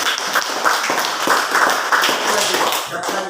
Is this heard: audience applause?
yes